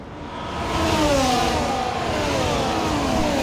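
An F1 race car in EA Sports F1 at Monza accelerates hard out of the first chicane, its engine note climbing in steady rising sweeps, loud and close, growing slightly louder after the opening half second.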